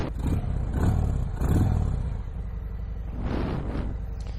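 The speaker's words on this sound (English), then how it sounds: "that Screaming Eagle exhaust gives it kind of a nice sound, a little bit lower rumble" A 2019 Harley Davidson FXDR motorcycle with a Screaming Eagle exhaust gives several deep, rumbling revs close by, the throttle swelling and easing in short bursts.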